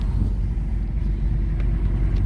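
A twin-turbo V6 Ford Mustang with a wastegate leak drives around the block, its engine a steady, loud low rumble with some wind buffeting throughout.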